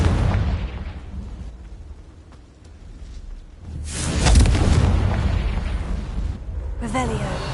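A Confringo blasting spell explodes in the Hogwarts Legacy video game: a deep, rolling boom swells midway and lingers, over a loud low rumble that fills the whole stretch.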